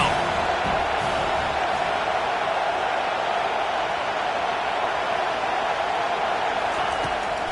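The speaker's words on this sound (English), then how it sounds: "Decibels rising as the crowd gets behind this defense on third down." Football stadium crowd roars steadily as fans cheer on the defense on third down in Texas, a dense, sustained wall of noise with no break.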